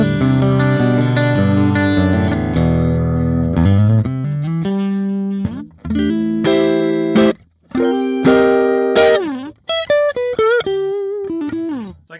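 Electric guitar notes and chords from a 1994 Gibson Nighthawk Custom run through effects, with distortion and reverb, sustained chords giving way to bent single-note lines with brief gaps, loud and close with no talking.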